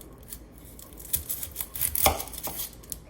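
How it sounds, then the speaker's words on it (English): A knife chops an onion on a cutting board in a few quick, uneven strikes, close and fairly quiet, with soft knocks against the board. "I'm going to cut the root side and like the little stem side, whatever you want to call them, off."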